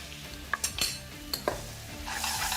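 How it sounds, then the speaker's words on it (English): Apples with butter and cinnamon sizzle as they caramelize in a hot pan, with a few sharp scrapes and clinks of a spoon stirring against the metal over the steady frying hiss. "apples are getting caramelized"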